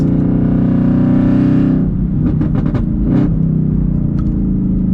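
Chevrolet Camaro ZL1 on a racetrack, a loud, close engine droning steadily under load, then a sharp drop off the throttle into a burst of crackling pops before settling back to a strong rumble.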